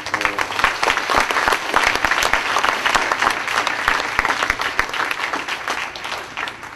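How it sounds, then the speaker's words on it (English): Audience at an international family retreat in Maryland applauds a speaker, Dr. A. K. Datta, with many hands clapping loudly and continuously, individual sharp claps standing out before it thins at the end. "once again, a, a, round of applause for Dr."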